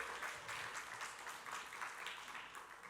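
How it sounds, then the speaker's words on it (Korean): Church youth congregation applauding at a worship service, a steady dense wash of many hands clapping together throughout at moderate volume, with no talk over it. "박수하겠습니다"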